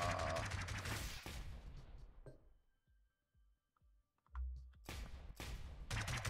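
Video game gun firing in bursts that begin loud and close, fall away to near silence in the middle, then return as heavy rapid fire.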